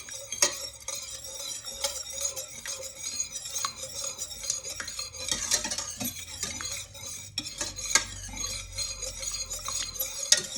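A whisk scrapes and clinks repeatedly against a pan of thick gravy, quick irregular metallic taps and stirring rasps over a faint sizzle, close and fairly loud with no talking.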